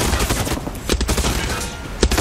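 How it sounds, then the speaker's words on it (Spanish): Gunfire in the Far Cry 6 video game, a rapid burst of sharp shots followed by scattered single cracks, loud and close. "¿Quién nos dispara?"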